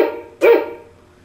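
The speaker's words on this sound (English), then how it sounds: "plus 4 dog barks" A dog gives a single short, sharp bark, close and clear, with a brief tail of sound after it and no voices.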